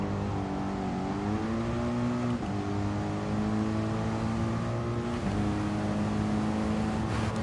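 Race car engine in GT Sport during a rainy race, a steady loud drone with harmonic whine that dips briefly at gear shifts around two and five seconds, then climbs again, with no talk.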